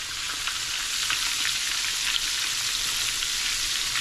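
Catfish pieces fry Southern style in hot oil, giving a continuous, dense sizzle and crackle that stays close and even throughout, with no talking.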